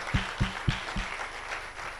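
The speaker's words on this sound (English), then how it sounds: "Ladies and gentlemen, a round of applause for our panelists." Audience at a regional conference session claps for the panelists: a few distinct hand claps up front over a soft, thin patter of applause that fades quickly.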